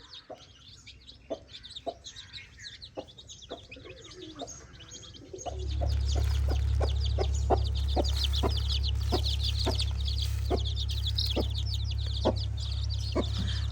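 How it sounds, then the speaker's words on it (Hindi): Chicks and chickens in a village yard cluck and chirp in short repeated calls, close by. A steady low hum comes in partway through and runs under the birds. "इसे थोड़ी देर मुर्गी के बच्चों को भी बाहर निकालना चाहिए हमें"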